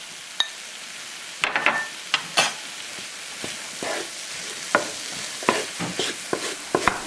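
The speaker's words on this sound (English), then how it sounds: "And now I'm going to add 2/3 of the lentils." Lentils stirred into a sizzling pan of hot fat, a soft steady fry with a run of scraping spoon strokes and light clinks against the pan, close and clear.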